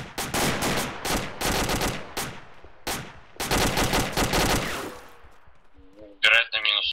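Gunfire from the video game ArmA 2 comes as loud, close bursts of rapid automatic shots with short pauses between volleys, ending with a brief electronic beep.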